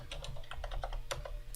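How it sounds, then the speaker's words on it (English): Rapid typing on a computer keyboard during a live coding session, a steady run of close, crisp key clicks with a few louder strokes, over a low constant hum and no talking. "Lots of typing today."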